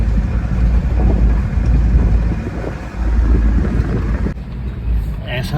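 Car jolting along a bumpy mountain road in Naltar Valley, Gilgit Baltistan, with loud, continuous low engine and road rumble and wind buffeting on the microphone, easing briefly near the end.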